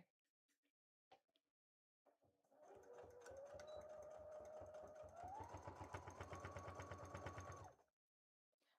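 A sewing machine stitches through the layered, basted fabric of a Link cosplay costume, running steadily for about five seconds with a rapid mechanical rhythm and a motor pitch that rises partway through, then stopping. A few soft handling taps come before it starts.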